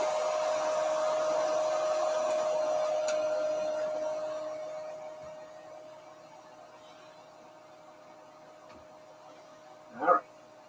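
A hair dryer blows on freshly painted fishing wake baits, giving a steady close whirring hum with a clear tone for about four seconds before winding down to quiet, with one brief sharp sound near the end.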